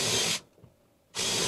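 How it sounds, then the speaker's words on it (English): A power drill boring pilot holes for screwing casters onto a wooden mobile base, with two loud, steady whirring bursts up close separated by a brief pause. "then drilling the pilot holes"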